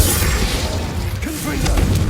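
The Confringo blasting spell explodes in Hogwarts Legacy. A loud, dense boom and rumble fills the whole moment and dies away only slightly toward the end.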